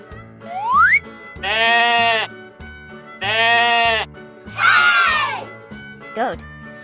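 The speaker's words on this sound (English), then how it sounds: "Goat." Goat bleats from an animal toy, several loud, wavering cries in separate bursts, with music playing throughout.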